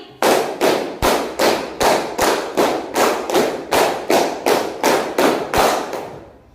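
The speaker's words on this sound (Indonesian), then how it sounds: "tepuk 5 3 kali." A classroom group clapping together in a rhythmic drill, five claps repeated three times, fifteen loud, crisp unison claps in an even, driving beat close to the listener.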